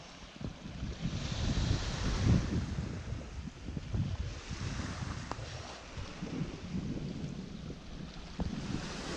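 At Paraga Beach on Mykonos, wind buffets the open air and waves wash against the shore, a fairly quiet, rough, fluctuating rumble with gusty swells and no talking.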